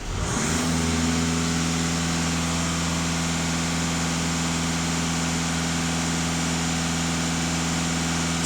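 A VW Passat B8 4x4 diesel engine rises from idle and holds at about 2500 rpm, giving a steady, loud droning hum with a strong low tone that stays even throughout.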